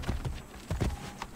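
Horse hooves clip-clopping in Assassin's Creed Brotherhood, a few uneven clusters of close, fairly loud hoofbeats over a low background.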